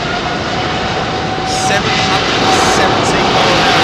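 Virgin Atlantic Airbus A350 XWB jet departing London Heathrow runway 27R, a steady broad engine roar sustained throughout, with people talking nearby.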